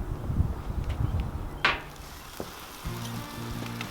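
Beef back ribs on a Kudu grill give a faint, steady sizzle with a sharp crackle partway through, then a low hum joins toward the end; no talking.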